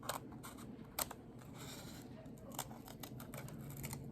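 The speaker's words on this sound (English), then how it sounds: "And now I'm just gonna cut the circle." Scissors snip through a paper circle for a donut-themed Valentine's Day card, with a few crisp cuts standing out over a quiet, steady background hiss.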